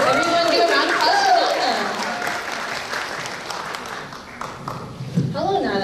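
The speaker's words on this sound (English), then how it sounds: "Everyone give a round of applause" Warm applause from a crowd at a Lao heritage night event at Fresno State, loud at the start and tapering off, with voices talking over it throughout.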